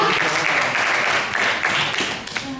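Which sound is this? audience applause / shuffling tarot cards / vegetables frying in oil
audience applause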